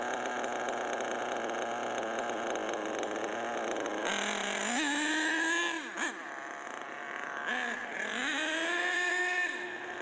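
Small HPI Big Block nitro engine in an RC car, running loud and steady, rising into sharp revs with a high buzzing whine that climbs and falls in two bursts as the throttle is blipped.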